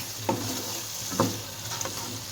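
Powdered spices frying in masala in a karahi for an aloo dish, a steady close sizzle broken by three soft scrapes of a spoon stirring through the pan.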